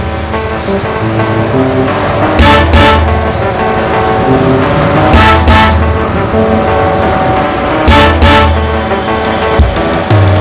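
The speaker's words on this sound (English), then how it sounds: "one of the fun things about this forklift is the rear wheel steering, which basically lets you do this." An electric forklift with rear wheel steering doing standing donuts, its tyres giving loud, repeated squealing bursts over a steady whine and rumble, close and without talk.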